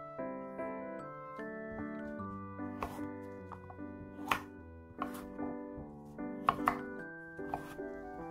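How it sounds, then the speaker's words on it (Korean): A knife cuts through kabocha squash on a board in a home kitchen, giving about eight sharp, close, irregularly spaced thunks over soft background music. "단호박은 이렇게 듬성듬성 잘라서 믹서나 블렌더로 갈아주시는데요"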